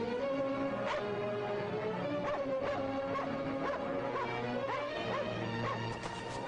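A dog barks repeatedly in a dubbed fantasy adventure film, sharp yips and bow-wows standing out over a dense, loud bed of music and commotion.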